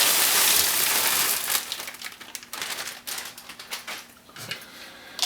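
A 32-ounce bag of frozen peas pours into cooked spaghetti with a loud rattling, crinkling rush, then settles into scattered patters and rustles of plastic.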